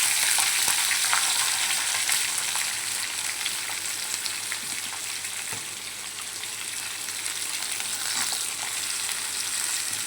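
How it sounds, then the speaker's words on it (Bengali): Ash gourd peels stir-frying in oil, a steady hiss and crackle that carries on without a break, with occasional clicks from stirring. "2 মিনিট নাড়াচাড়া করে নেবো"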